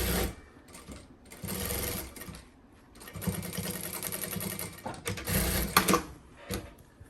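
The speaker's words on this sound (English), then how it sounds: "One thing I like about this machine is a double stitch at the beginning and the end." A Jack A5A sewing machine stitches in rapid mechanical bursts, starting and stopping in several runs at close range.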